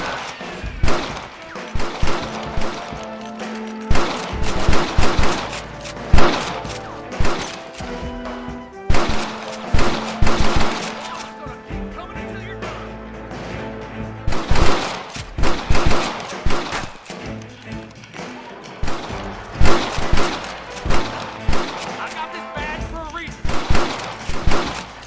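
Frequent gunfire in Red Dead Redemption as fleeing enemies are chased: repeated sharp shots and rapid bursts, loud and close, over a music bed with voices shouting at times.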